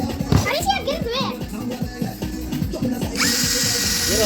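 A power drill whirs steadily near the end while a cabinet is being built. Children talk and play loudly over it and throughout.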